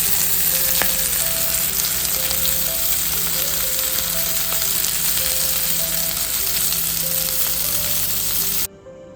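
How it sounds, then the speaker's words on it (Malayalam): Kerala-style varal (snakehead fish) fries in a pan, a loud, dense, continuous sizzle up close with occasional light clinks, cutting off abruptly near the end; no one speaks. "ഇപ്പം നല്ല അടിപൊളിയായിട്ട് ഫ്രൈ ചെയ്തെടുക്കാം"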